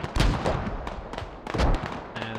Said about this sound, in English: And the hab's disabled once again with mortars. An explosion, but nothing in the kill feed.